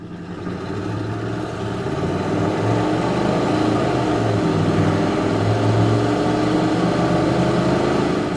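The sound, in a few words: 1993 Chevrolet K1500 5.0 truck accelerating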